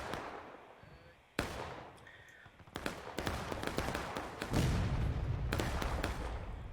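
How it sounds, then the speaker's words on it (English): Confederate artillery thunders in a Civil War video game, several loud booming blasts and cracks at irregular intervals, some near and some more distant, with a low rumble building toward the end. "That was Confederate artillery"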